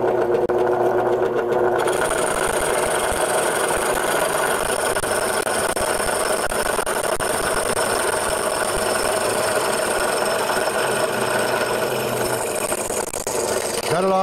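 A Ring Master wood ring cutting machine runs steadily as it cuts a ring from wood for a clock, producing a loud continuous whirring hum with a rasping tone that holds throughout before easing slightly at the end.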